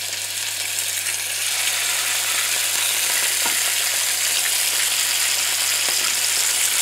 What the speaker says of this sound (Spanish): Y aquí cuando esté caliente pues vamos a poner los trozos de pollo.